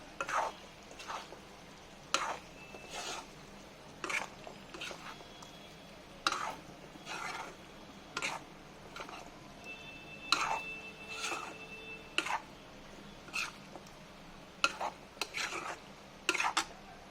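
A spoon stirs roasted coconut into a Kerala-style chicken roast in a pan, with regular scraping strokes and metallic clinks about once a second over a low, steady sizzle, close and fairly loud.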